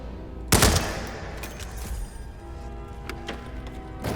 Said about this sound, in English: Gunshot has been heard.